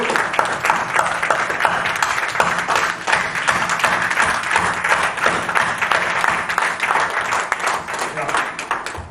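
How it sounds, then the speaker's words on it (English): Room of attendees at a weekly business meeting gives a round of applause, steady dense clapping sustained for about nine seconds with faint voices underneath. "With this huge round of applause"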